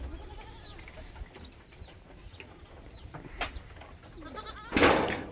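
Goats bleat on a raised-floor goat farm where the bucks weigh over 40 kg, with a low background of animal shuffling and one loud, close bleat near the end.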